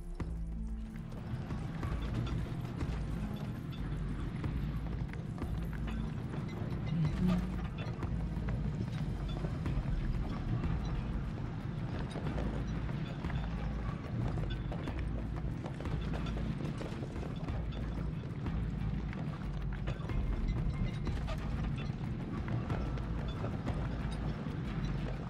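A donkey's hooves clip-clop at a steady, even walking rhythm in Final Fantasy VII Rebirth, continuous and close, with low mechanical rumbling and creaking underneath.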